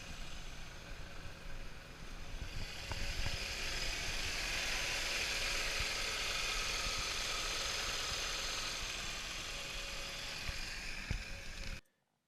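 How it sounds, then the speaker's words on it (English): A 2010 Mini Clubman engine idles after a cold start, a steady low hum and mechanical whir that holds constant for about ten seconds, heard alone without talk before cutting off abruptly. "start it up and listen. Ideally, a cold start is the best way for checking an engine."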